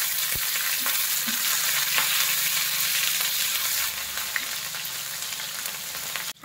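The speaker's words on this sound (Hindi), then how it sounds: "हाई फ्लेम में इसे 1 मिनट के लिए फ्राई करने के बाद" Chopped garlic, green chili and capsicum fry on high flame in hot oil, a loud, steady, dense sizzle that runs throughout, easing slightly in the second half before a brief knock at the end.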